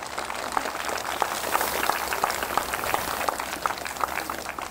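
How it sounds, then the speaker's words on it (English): An outdoor audience at a school Arbor Day celebration in Joliet, Illinois gives steady, fairly faint applause, a continuous patter of many hands clapping at a distance. "I'd like to give her a round of applause for getting this together"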